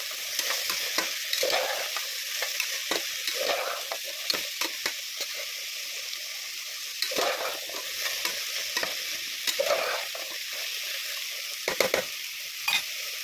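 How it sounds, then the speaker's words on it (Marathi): Green peas sizzle in a pan for biryani while a utensil stirs them, with repeated scraping bursts over a constant frying hiss. The sound is moderately close and there is no speech. "आणि थोडेसे मटर टाकून घेणार आहोत. छान असे फ्राय करून घेणार आहोत."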